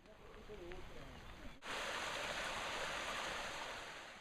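A stream flows near Vernazza in Italy on a rainy hike, a steady broadband rush of water that abruptly swells louder partway through and then holds as a constant, close roar.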